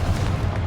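A Confringo fire spell explodes in the video game Hogwarts Legacy, a single short, deep boom with heavy low rumble, loud and close.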